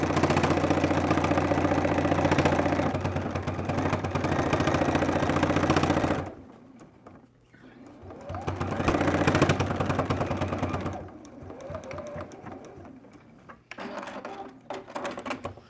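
A sewing machine stitches a fabric storage basket in long loud runs, then pauses, then stitches again in shorter, quieter bursts, close by.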